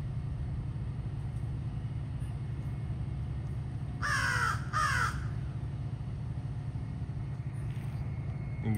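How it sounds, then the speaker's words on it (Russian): Two loud caws from a crow ring out in quick succession over a steady low hum at a Florida residential complex after Hurricane Milton. "Мои попугаи не очень любят карканье ворон."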